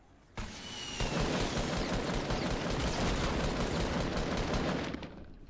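A video game shootout erupts into dense, continuous gunfire: rapid overlapping shots and bursts roar loud and unbroken for about four seconds, then cut off abruptly.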